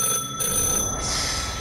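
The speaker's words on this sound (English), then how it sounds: "My phone's ringing, but I can't do nothing about that." A phone rings inside a Rec Room horror game, a bright electronic tone that breaks off in short gaps and then holds steady, fairly loud and with no voice over it.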